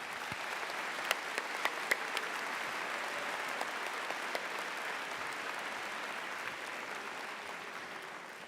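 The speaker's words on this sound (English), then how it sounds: "would you please join me in a round of applause for the wonderful MRU faculty and staff" Sustained applause from a convocation audience honoring university faculty and staff, a steady dense wash of clapping lasting several seconds with no voices over it.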